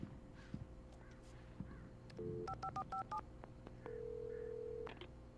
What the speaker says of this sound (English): There's the phone. Can I make a call?